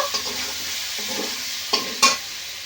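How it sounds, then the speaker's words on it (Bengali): Potatoes and chickpeas fry in spiced oil for a vegetarian cabbage ghonto, a continuous close sizzle broken by two sharp clacks of the spoon against the pan. "বেশ ভালো করে আলু আর ছোলা কষে নিয়েছি"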